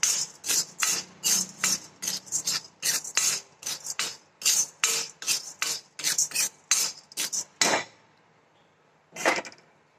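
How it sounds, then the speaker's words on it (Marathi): Dry lentils (dal) being roasted and stirred in a pan without oil, with a rapid series of sharp scraping, rasping strokes in quick rhythm, then a pause and one last scrape, close and clear. "डाळ चांगली भाजून घेते"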